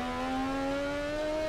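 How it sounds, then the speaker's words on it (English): A drift car's engine in a racing video game set at Tsukuba circuit roars loud and steady as a clutch kick is made near 95 mph, its droning pitch creeping slowly upward throughout. "Clutch kick"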